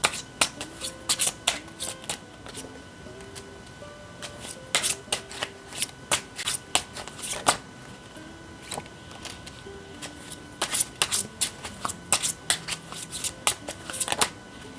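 Tarot cards shuffled by hand in repeated quick riffling bursts separated by short pauses, crisp and close, with a faint background tone and no talking.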